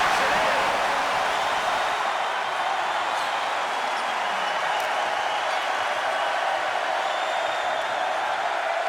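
Broadband roar of a basketball crowd at Foster Pavilion during a Kansas vs Baylor college game, a steady loud wash of cheering and shouting holding level throughout.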